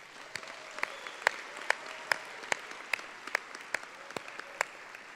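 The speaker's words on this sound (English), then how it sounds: "Let's give them all a big round of applause." Scattered applause at a graduation ceremony: distinct, evenly spaced claps over a faint room hiss, sounding like a small group clapping at a moderate pace.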